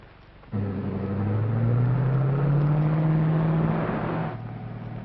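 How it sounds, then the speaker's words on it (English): An old 1940s roadster starts up and drives off nearby, with a rising engine whine and steady revving that holds for several seconds before dropping away, no talk over it. "it's Mr. Kruger driving the roadster"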